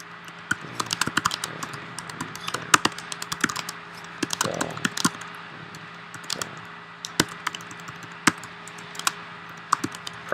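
Typing on a computer keyboard, crisp individual key clicks in uneven bursts and pauses, close to the microphone over a faint background hum.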